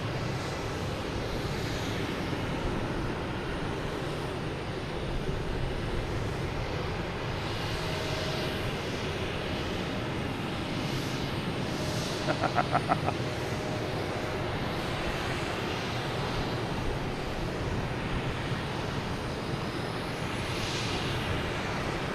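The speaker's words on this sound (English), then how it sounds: "We got JetBlue coming in from Cancun." A JetBlue airliner arriving from Cancun on approach to Logan Airport, Boston: a steady broad engine roar that holds loud and even throughout, mixed with outdoor wind rush, with a brief clicking burst midway and no talking.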